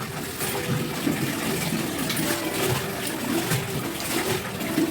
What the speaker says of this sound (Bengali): এখন একটা কাপড় ভিজিয়ে রেখেছিলাম নাইটি তো ওটাকে একটু ধুয়ে মিলিয়ে দিব